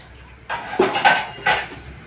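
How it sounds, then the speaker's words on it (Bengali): Dishes, pots and pans clatter in a short run of close metallic knocks and clinks while being washed, three or four bright hits spaced unevenly. "আর এত বাসন এখন সব ধুতে হবে।"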